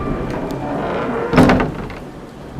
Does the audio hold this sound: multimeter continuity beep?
no